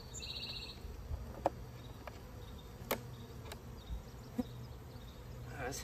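A low, continuous drone of honey bees around an open hive box, faint and even, with a few sharp clicks and knocks from handling scattered across it. No voices are present.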